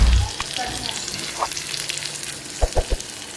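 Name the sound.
tempering mustard seeds, curry leaves, chilies, onion, tomato frying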